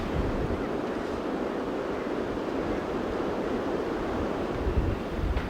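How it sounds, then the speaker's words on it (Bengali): Steady, broadband roar of sea surf breaking on a shore, continuous and fairly loud with a slight gusting of wind and no voices. "মানুষ কত দূর দূর দেশ থেকে সমুদ্র দেখতে আসে, বিশাল সমুদ্র, কত বড়।"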